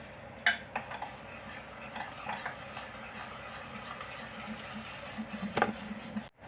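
Crushed Oreo biscuits being mixed into an ice cream mixture in a bowl, giving soft scraping and clinking of a utensil against the dish with a few sharper knocks, fairly quiet and close, with no talking.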